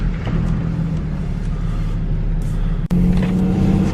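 A BMW with the N54 engine, JB4 tuned and fitted with downpipes, idles steadily just after starting, a close, continuous low rumble with a brief dip partway through before it settles again.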